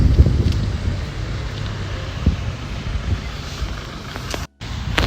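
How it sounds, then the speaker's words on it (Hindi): Cold wind blows hard outdoors, buffeting the microphone in continuous gusts with a few sharper bumps and one brief dropout near the end. "बहुत ठंडी हवा चल रही है"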